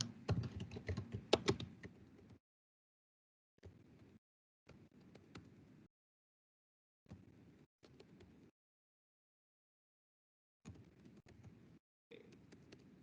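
Typing on a computer keyboard in short separate bursts of quick clicking, close and fairly quiet, with silent pauses in between.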